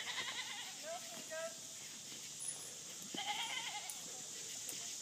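Billy goat bleating on an off-grid farm, several wavering bleats a few seconds apart, fairly close, over steady outdoor background noise.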